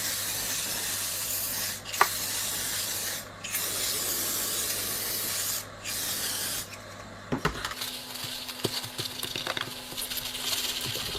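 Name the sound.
spraying label remover onto plastic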